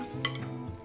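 A spoon makes a quick wet scrape and clink while stirring chicken shawarma marinade in a bowl, short and close.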